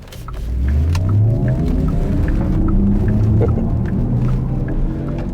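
A synthetic, whale-like hum rises and sweeps in pitch as a 2025 Porsche Macan Electric pulls away, with a low rumble underneath.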